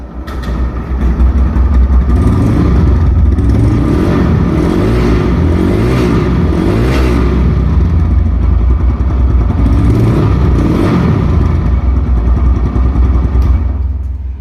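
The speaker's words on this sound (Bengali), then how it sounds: "এখন যদি বাইকটা আমরা স্টার্ট দেই সাউন্ডটা শুনলে আপনারা বুঝতে পারবেন" A used TVS Raider 125cc motorcycle engine runs steadily and close by, rumbling at idle with a few revs rising and falling throughout, no voices.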